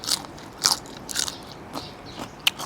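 Crunchy bites into a giant apple snail eaten with spicy papaya salad with fermented fish: several sharp, close crunches spaced across the moment, with no talking.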